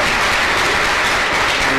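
Applause from a lecture audience fills the room, a steady dense patter of many hands clapping at once, loud and sustained without a break.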